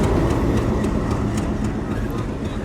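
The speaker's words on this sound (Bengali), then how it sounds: "চলে যাচ্ছে ট্রেন নাম্বার পঁচানব্বই ছিয়ানব্বই মোংলা কমিউটার" Mongla commuter train number 95/96 pulls away from Katakhali railway station, a steady loud rumble of rolling wagons and engine noise filling the platform throughout.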